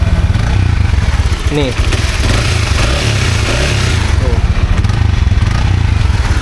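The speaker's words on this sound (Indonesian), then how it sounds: "Ini suara mesinnya nih kayak gini. Kita panasin, kita gas dikit." Motorcycle engine on a touring bike warming up, idling with a rough rapid pulse and blipped lightly on the throttle, close and loud while someone talks over it.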